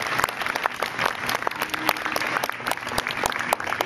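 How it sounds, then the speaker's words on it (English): Audience clapping steadily around a bucket calf show ring at a youth livestock event, a dense sustained round of applause with sharp individual claps throughout and no voices over it. "Let's give each of these young people a really nice round of applause."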